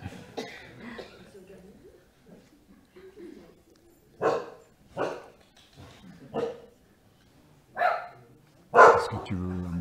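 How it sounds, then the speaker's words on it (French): A dog barks several times in short, spaced bursts during a televised debate, the barks rising over quieter background voices and a cough-like sound. "Ah, le chien."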